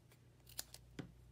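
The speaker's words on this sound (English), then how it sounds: "I'm going to cut off at an angle on both sides." Scissors cut paper at an angle for a handmade Stampin' Up! card: a couple of quiet, crisp snips close by with no talking.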